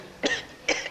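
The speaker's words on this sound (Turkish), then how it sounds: "Sen öksürüyorsun." Two short, dry coughs from a sick man, evenly spaced and close to the listener, with a quiet room behind them and no talking.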